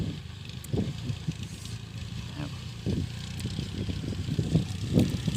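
A Kubota tractor ploughing a rice field gives a steady low engine rumble at moderate distance, with brief louder surges as it works.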